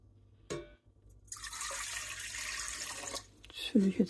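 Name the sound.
pouring 300 ml lukewarm water into mixing bowl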